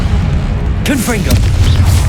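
Low rumbling Confringo spell explosion from Hogwarts Legacy under a constant deep boom, joined midway by bright whooshing, warbling magical tones that sweep and swirl above it.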